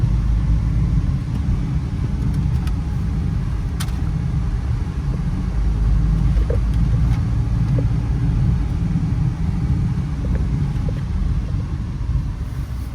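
Steady low engine rumble and road noise of a Subaru Impreza RS wagon driving along, continuous and fairly loud throughout, with no voices.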